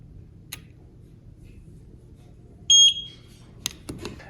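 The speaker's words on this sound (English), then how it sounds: "push and hold this sync button for a couple seconds until we hear the beep" Short electronic beep from the sync button of a Eufy C30 video doorbell, a single clear tone near the middle, followed by a few faint clicks in a quiet setting.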